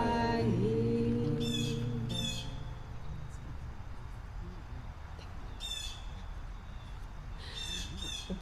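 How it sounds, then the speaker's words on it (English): Birds sing outdoors during an open-air Shabbat service, with a few faint chirping bursts heard over steady background noise after a brief sung or spoken tone at the start. "The birds are just singing here along with us"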